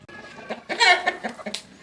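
Free-range chickens in a poultry coop cluck in short, uneven bursts. Several birds sound close together, with soft rustling between the calls and no talk.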